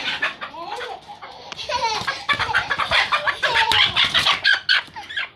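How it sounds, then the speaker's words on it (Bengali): A chicken clucks and squawks loudly and agitatedly in rapid bursts as it is chased and caught at home, with a voice briefly audible underneath. "ইচ্ছা করে ধরো ধরো আমাদের মুরগিটাকে ধরো।"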